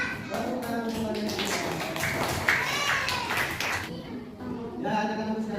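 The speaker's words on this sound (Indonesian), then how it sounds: "Tepuk tangan semuanya." A classroom of pupils in an Islamic religious education lesson claps together in a short burst of hand claps, mixed with children's voices and talk.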